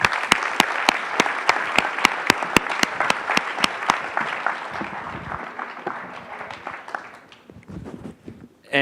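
An audience at a fintech awards summit applauding a People's Choice startup winner, with dense clapping and a few sharp close claps, tapering off toward the end.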